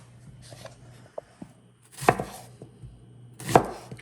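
A knife slices through a red onion on a cutting board, with a few light taps followed by two sharper, louder chops spaced over about two seconds, close and alone.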